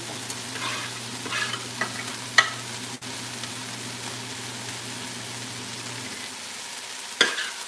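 Garlic and onion frying in a lightly oiled pan give a steady close sizzle with occasional stirring scrapes and sharp clicks, over a low hum that stops partway through.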